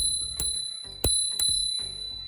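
A handlebar bell on a USIE T1 Pro electric scooter, fitted beside the rear disc brake lever, rings in four bright metallic strikes with the third loudest, each leaving a short ringing tail.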